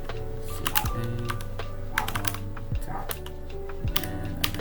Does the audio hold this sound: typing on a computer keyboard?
yes